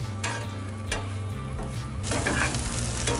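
Butter melting and sizzling in a cast iron pan with dry sweet potatoes over an open fire, a steady close frying hiss with occasional stirring scrapes and clicks, no voices.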